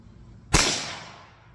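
A single sharp crack from a Marlin XT22M .22 rifle firing CCI A22 ammunition, close and loud, followed by a short fading outdoor echo.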